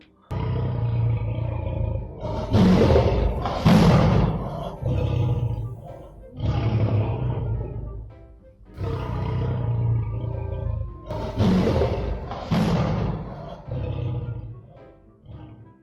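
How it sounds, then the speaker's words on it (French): Lions in a den roar repeatedly in long, deep, loud bursts with short pauses between them, overlapping into a continuous rumbling chorus. "Mettez-le dans la fosse aux lions."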